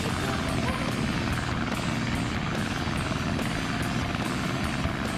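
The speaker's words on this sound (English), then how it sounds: "This plane's cool." A steady, loud propeller-plane engine drone from the video game Sonic Adventure DX, with a fast rhythmic chop running continuously throughout and no pauses.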